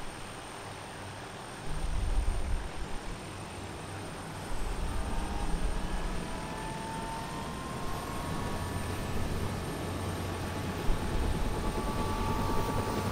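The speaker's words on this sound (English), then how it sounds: "start spooling up your choppers, but maintain your position on the ground" Helicopters spooling up on the ground in the military game ArmA 2, a steady rising rotor and turbine drone with faint whining tones climbing in pitch, moderately loud and continuous.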